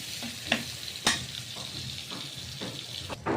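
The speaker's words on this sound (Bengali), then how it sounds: "এখন ভালোভাবে নেড়ে চেড়ে দেব আবার।" Prawns and onion frying in a pan for a bitter gourd and prawn stir-fry give a steady close sizzle, broken by a few sharp scrapes of the spatula as they are stirred.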